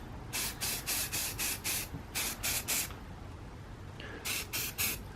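Quick bursts of self-etching Rust-Oleum spray paint hiss out of the can in rapid sets of short sprays, close and loud, laying a first coat outdoors in the cold.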